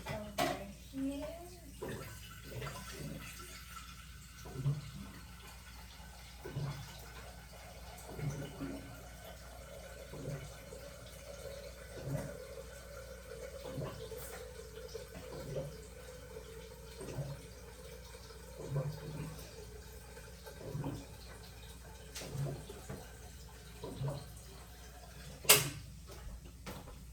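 Hot water, about 7.5 cups, poured into a coffee maker with a filter basket: quiet, intermittent splashing and trickling pours with soft knocks, recorded in a room.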